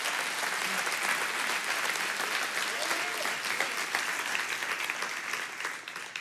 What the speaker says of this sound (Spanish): dar un aplauso a Dios si lo recibe